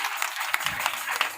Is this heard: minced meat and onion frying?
no